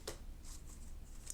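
Tarot cards riffle and slide against each other in one brief, soft shuffle, close by and quiet, with light papery flicks.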